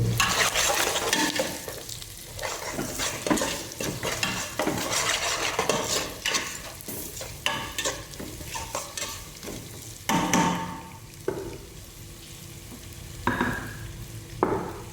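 A spoon stirs turmeric into boti (tripe) curry frying in a pan, with repeated scraping clatters and steady sizzling close up and no talk.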